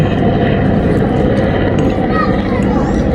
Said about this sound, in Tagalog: may dumaan na helicopter